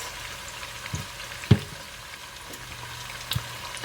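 Vegetable noodles with soy sauce stir-frying in a pan, giving a soft steady sizzle with a few sharp clacks and scrapes from stirring.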